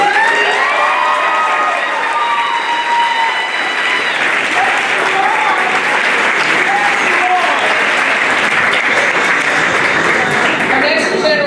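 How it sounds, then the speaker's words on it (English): A school audience at a middle school 7th grade academic awards ceremony bursts into loud applause with cheering and children's shouts, a sustained roar of clapping that carries strongly for over eleven seconds. "Can I have another round of applause?"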